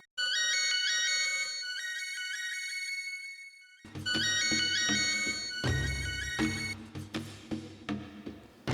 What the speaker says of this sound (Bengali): তোমার রিংটোন অসহ্য লাগছে আমার